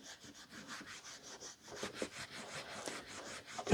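Rubbing strokes of a cloth polishing the cover of a vintage Penguin paperback, a soft, close, rhythmic swishing that grows slightly louder toward the end.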